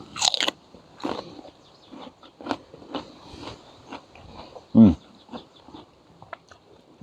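Someone bites into and chews a crunchy, juicy, freshly harvested raw garden radish, with close, loud crunches and a run of irregular chewing sounds.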